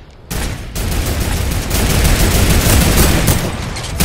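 Mounted turret gunfire in Fortnite, a loud, continuous stream of rapid shots that begins after a brief pause and roars steadily for nearly four seconds.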